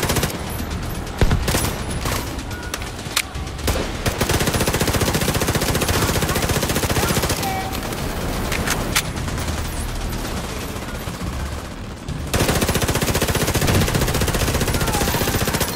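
Sustained bursts of LMG machine gun fire in The Division 2 on Roosevelt Island, rapid and dense, loud and close, with a brief pause near the end before firing resumes.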